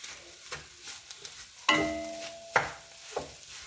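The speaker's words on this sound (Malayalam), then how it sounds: "ഇതിലേക്ക് ഉരുളക്കിഴങ്ങ് ചേർത്ത് കൊടുത്തിട്ട് നമുക്ക് ഇളക്കാം" Potatoes being stirred in a pan for a veg cutlet mixture, with a few sharp scraping strokes of a spoon against the pan over a faint background sizzle, close and alone without talk.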